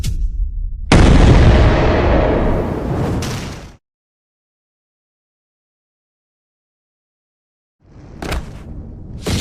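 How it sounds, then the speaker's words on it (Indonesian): A loud, roaring blast bursts out and rumbles for a few seconds before cutting to silence, then more crashing noise returns near the end. "Itu bakal meledak."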